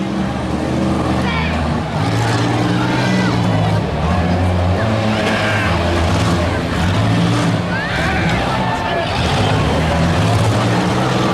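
Compact cars in a pure stock demolition derby at the 2018 Crawford County Fair in Meadville run with a loud, continuous, rough engine drone and a low throbbing idle, while an announcer talks over it.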